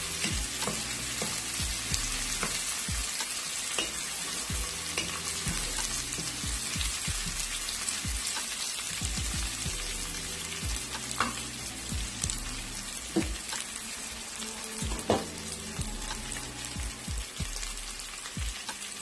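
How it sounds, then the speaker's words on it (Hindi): Mutton with spices sautés lightly in a pan for a mutton mandi, a constant dense sizzle and crackle with scattered stirring knocks, steady and close without speech. "बस हल्का सा सौते करना है।"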